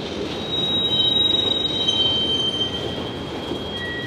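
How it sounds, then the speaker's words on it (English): A Union Pacific coal train rolls slowly over the rails, a loud continuous rumble of heavy wheels with a high, thin squeal of wheel flanges rising over it, close by and without any talk. "We'll bring a coal train through here,"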